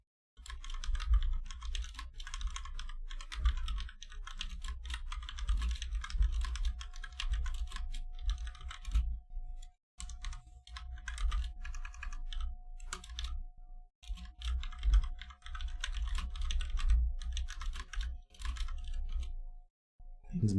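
Rapid, continuous clatter of keys on a computer keyboard, close and steady over about twenty seconds, with a couple of brief pauses and no talking.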